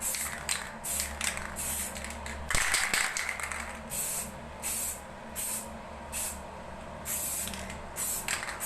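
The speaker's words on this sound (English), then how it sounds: "So the first black base coat on the top." Short repeated bursts of hissing aerosol spray as a black base coat goes onto a Skoda Rapid alloy wheel at home, each burst a second or so long with brief gaps between.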